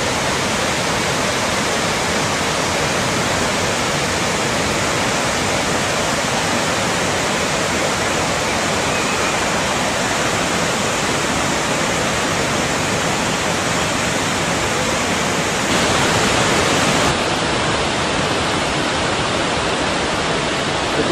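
A steady, loud waterfall pours continuously near an Alaskan glacier, its broad hissing roar unbroken and uniform from start to finish with no voices.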